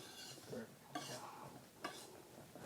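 Scone batter with dried fruit being mixed in a bowl, with quiet scraping and stirring strokes and occasional soft knocks of a utensil against the bowl, faint and close.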